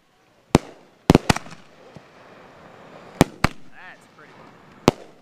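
Fireworks at a backyard 4th of July show, sharp loud bangs arriving singly and in a quick cluster over several seconds, with distant crackle and voices in between.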